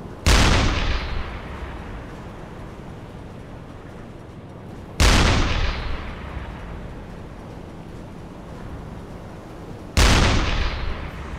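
Three heavy blasts from a U-boat deck gun in the UBOAT game, spaced about five seconds apart, each a loud sharp boom that rolls away into a long fading rumble.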